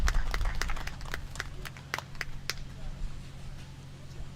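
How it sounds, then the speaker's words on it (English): Spectators at a county livestock show clap for a young heifer exhibitor. The sparse, separate claps come from a small crowd in a large, echoing space, over a low rumble of background noise, and they slowly taper off. "give this tough little young lady a big round of applause"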